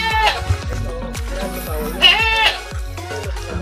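A large goat on a goat-raising farm bleats in a string of wavering cries close by. Thumping knocks and farm noise run underneath, and there is no talk.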